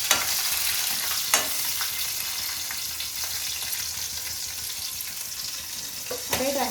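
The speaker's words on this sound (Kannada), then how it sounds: "ಗಾರ್ಲಿಕ್ ಚೆನ್ನಾಗಿ ಫ್ರೈ ಆಯಿತು." Garlic sizzles and fries in a pan with constant crackling hiss, broken by occasional scraping strokes of a stirring spoon close by.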